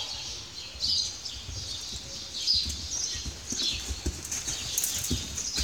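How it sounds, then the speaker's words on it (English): Horse hooves clip-clopping at a working trot in a dressage arena, a steady rhythmic beat at moderate distance with birds chirping faintly in the background. "Rise and trot, allow the horse to stretch forward and downward."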